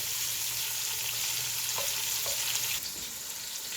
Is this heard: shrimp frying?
yes